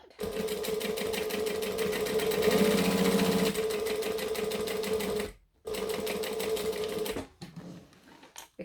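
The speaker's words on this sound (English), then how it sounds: "I'm going to stitch from bottom to top" A sewing machine stitching a fabric seam from bottom to top, running steadily and close with a fast rhythmic whir, pausing briefly, then resuming before stopping, with a voice briefly heard.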